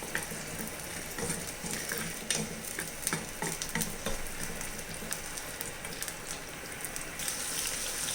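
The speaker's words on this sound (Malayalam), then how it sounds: "ഒരല്ലി വെളുത്തുള്ളി ചെറുതായിട്ട് അരിഞ്ഞത്. നമുക്കിതൊന്ന് വഴറ്റിയെടുക്കാം." Chopped garlic and onion sautéing in a pan for a tuna fish curry, with a steady close sizzle and frying crackle alongside scattered stirring scrapes and clinks of a spoon, and no talking.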